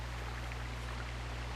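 A running stream in Knights of the Old Republic, heard as a steady, soft rush of flowing water at low level over a faint constant hum, with no voices.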